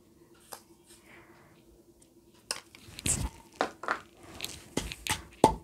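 Onion, chilli and salt chutney pounded in a stone mortar: after a quiet start, a run of irregular dull thuds and grinding knocks, close and moderately loud, with soft rustles between strikes.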